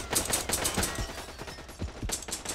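Gunfire in the Devil's Third Online video game: rapid, close shots in quick bursts with a short pause before another volley, and no talk over them.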